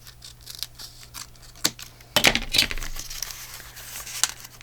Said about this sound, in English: Just going to cut this little piece off up here.